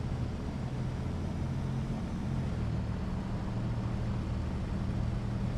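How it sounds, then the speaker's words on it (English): Steady low droning engine of a MAN Lion's City double-decker bus in a driving simulator, a continuous even rumble with a rough, gasoline-like tone and no voices. "This engine almost sounds like a gasoline engine, it's atrocious."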